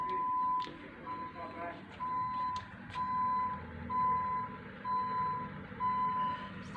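An army truck reverses with a reversing alarm that beeps about once per second, seven times in all. The repeating tone sits over engine rumble and background noise while a person talks nearby.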